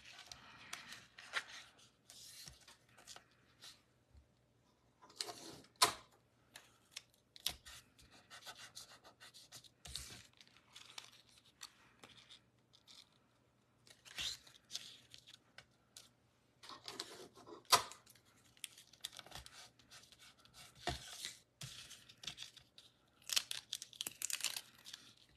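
Tape is torn off and pressed onto a paper card during card-making, heard as scattered bursts of crinkling, rubbing and sharp tearing with quiet gaps between them, close by and fairly soft.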